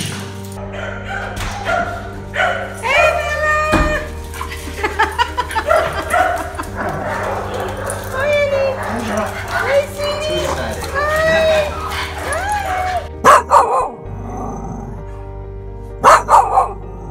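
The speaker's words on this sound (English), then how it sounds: "Never barked at a trash truck like that before." A Staffordshire bull terrier barks and yips repeatedly in short bursts close by at a trash truck, over a steady low hum, with people talking at times.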